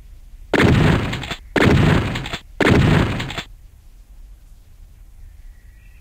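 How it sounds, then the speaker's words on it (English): Three heavy shotgun blasts in a Doom-style first-person shooter, fired at a target downrange, each roughly a second apart with a short ringing tail, then quiet ambience. "Pick up that shotgun, Private, and fire a few shots at the target downrange."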